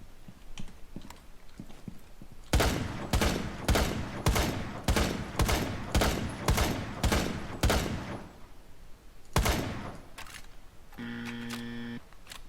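Sniper shots fired through Mira glass in Rainbow Six Siege crack out as a rapid series of about a dozen loud, evenly spaced reports, followed by one more shot and a short electronic tone.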